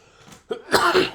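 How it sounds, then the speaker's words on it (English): A single short cough, preceded by a faint throat sound, close and fairly loud in an otherwise quiet room. "I love how I open so many videos with coughs."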